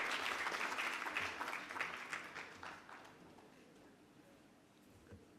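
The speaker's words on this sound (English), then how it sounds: "Let's give him a round of applause." An audience at a summit session gives a speaker a round of applause. The clapping is full at the start and tapers steadily into quiet room tone.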